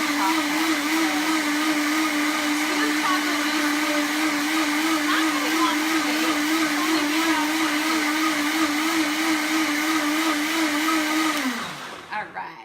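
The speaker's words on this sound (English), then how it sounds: "we're making that strawberry beet puree once again in our blender" A blender runs steadily, pureeing strawberries and beets with a loud, continuous motor whir and a slight wavering pitch, then winds down and stops near the end.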